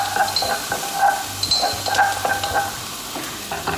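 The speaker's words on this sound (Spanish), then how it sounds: "Quiero que se queme la cebolla, que se caramelice un poquito." Onion caramelizing in a pan for beef meatballs fries with a steady, close sizzle, while a utensil stirs and scrapes at intervals and occasional bright metallic clinks ring out.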